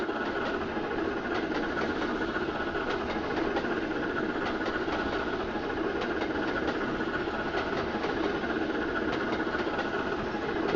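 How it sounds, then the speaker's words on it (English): A train engine in the Trainz 2 railway simulator game drones steadily and continuously, a close, even mechanical hum with a faint rhythmic chatter and no pauses. "And finally, we got a train on the inner loop of track."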